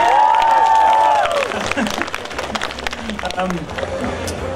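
An audience at BigFest 2017 breaks into applause, a dense patter of clapping that carries on after a brief tonal sound fades out at the start.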